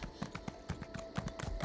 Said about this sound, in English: We best summon our horse.